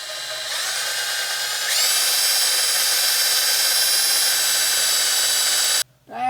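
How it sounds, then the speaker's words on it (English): A power drill fitted with a left-handed bit whines steadily at high pitch while boring out a stuck bolt on an old Ford OBS project truck, the motor speeding up after a moment, then cutting off and briefly spinning again at the end. "there actually is a left-handed drill bit"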